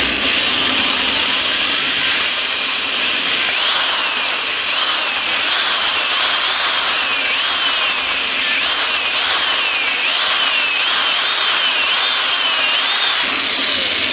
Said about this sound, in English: Hold on tightly and drill the hole.